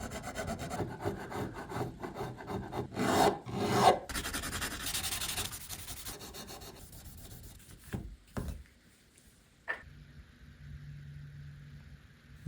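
Filing and dressing the zero fret on a vintage West German guitar, a steady rasping rub of metal file strokes for about eight seconds, fading to quieter scraping and a faint hum toward the end.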